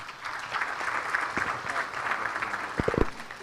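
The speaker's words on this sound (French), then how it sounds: "applaudissements encore pour les différents panélistes" Audience applause for the panelists at a French forum roundtable on economic opportunities, a steady, moderately loud patter of clapping with a few sharper claps and a brief voice near the end.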